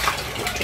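Water sloshing and splashing during a bath, a short continuous burst of close, moderately loud liquid movement with no talking.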